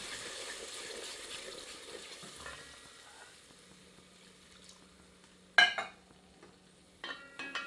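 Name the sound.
adding half cup of water to chicken kofta curry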